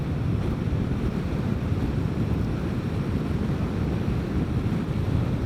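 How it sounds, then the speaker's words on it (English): Strong headwind roaring across the microphone of a rider on a Vespa GTS 300 scooter, a dense, constant low buffeting rush with no pauses and no voices. "Pretty good headwind if you guys can hear the difference."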